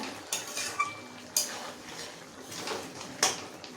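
Chicken kosa with spices is stirred in a pot. A utensil scrapes and knocks against the metal in a few distinct clanks over a low, continuous background of cooking noise.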